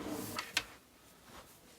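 A deep storage drawer in a 2019 DRV Mobile Suites RV slides and knocks shut, giving two quick close taps with a sharper one in between and a soft thump trailing after.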